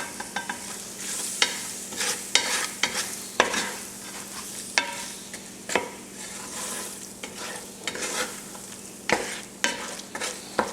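Garlic, bay leaves and thyme cooking in a pan for a chicken etouffee, a soft steady sizzle broken by repeated sharp scrapes and clacks of stirring at close range, with no talking.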